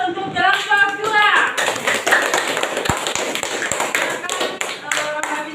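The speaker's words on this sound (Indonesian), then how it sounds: "Berikan aplaus untuk kelompok 2." Classroom applause for a student group during a statistics lesson: a brief scatter of light clapping and taps from a small group, close by, mixed with a speaking voice.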